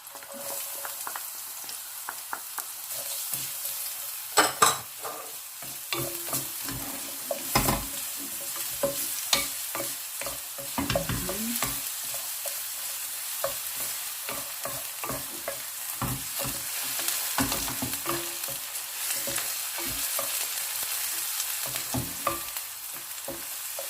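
Garlic and onions sizzling in a pan for Filipino ginisang repolyo, a continuous crackling fry broken by frequent clicks and scrapes of stirring, close and moderately loud.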